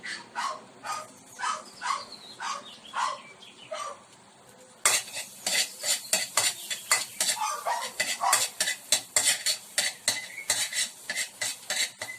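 Garlic sizzles in melted butter in a pan for a homemade red cheese sauce while a utensil stirs it, scraping and clinking in rhythmic strokes close by, getting louder partway through.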